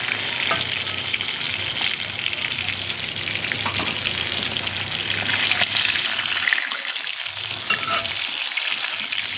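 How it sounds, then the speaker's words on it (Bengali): Pieces of rohu fish fry in hot oil until reddish, giving a dense, steady sizzle and crackle throughout with occasional stirring and no talking. "আমি মাছগুলোকে লাল লাল করে ভেজে নিচ্ছি।"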